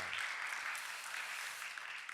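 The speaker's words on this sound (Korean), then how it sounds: "우리 힘찬 박수 해주시기 바랍니다" Worshippers in a Korean church applaud right after praise songs: a steady, dense wash of clapping that holds evenly for a couple of seconds with no voices over it.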